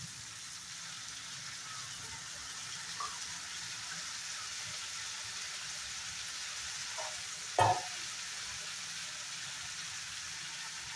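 Ginger, garlic and green chili paste frying in a pan, a steady soft sizzle like light hiss throughout, with one brief clink of a utensil partway through.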